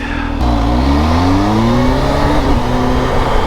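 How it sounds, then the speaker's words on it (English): A motorcycle with a quick shifter accelerates hard, its loud engine note climbing in pitch, then dropping sharply with each rapid upshift before rising again, heard close and continuous. "I had to come off the throttle then before I upshifted just to put the front wheel back down"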